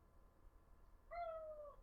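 A single faint, drawn-out meow from a cat, about half a second long, heard alone in a quiet indoor room.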